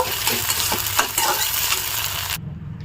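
Eggs frying in a wok (kadai) while being stirred slowly, with a little salt, for a roti-and-vegetable tiffin; a steady close sizzle with scraping stirs, cutting off abruptly near the end.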